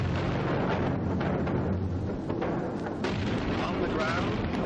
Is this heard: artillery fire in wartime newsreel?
yes